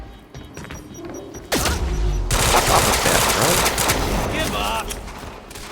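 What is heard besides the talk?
gunfire in the video game Quantum Break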